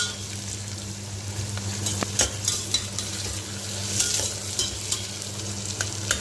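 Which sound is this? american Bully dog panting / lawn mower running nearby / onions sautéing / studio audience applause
onions sautéing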